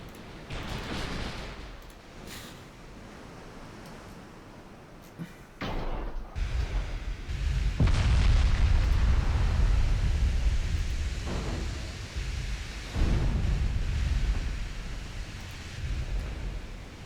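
Naval gun salvos and shell impacts in a Greek naval campaign video game, a series of heavy booms and rumbling bursts over steady sea and wind noise, with no talking.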